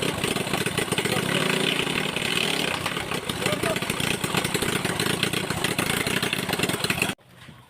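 A boat engine at sea sputters to life and then runs at a steady rough idle, loud and close, chugging continuously before cutting off abruptly near the end.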